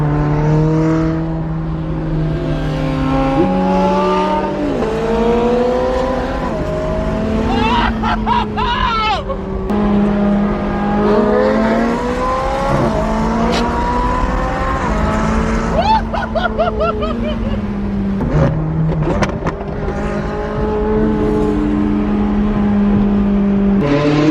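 Supercars rev hard in passing, among them a Porsche Turbo S with crackling exhaust pops, a LaFerrari Aperta and a 918 Spyder. Loud engine tones rise and fall throughout, with sharp pops in between.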